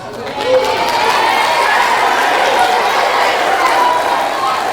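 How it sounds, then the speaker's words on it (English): Audience at a middle school presentation for eighth graders applauding, a broad steady wash of clapping and crowd noise filling the room throughout. "Now y'all clap"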